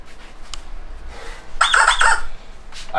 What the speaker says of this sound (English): I keep my lucky rubber chicken there